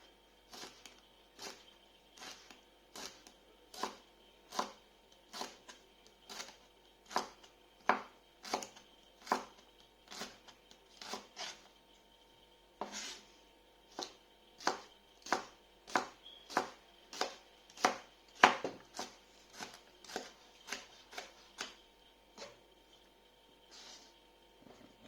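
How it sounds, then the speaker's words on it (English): A knife slices peppers thinly on a cutting board in a long run of sharp, evenly spaced taps that quicken toward the end, close and clear against a quiet kitchen with no talking. "We're just going to slice this similar to the onion, just in slices. Try and get them fairly thin."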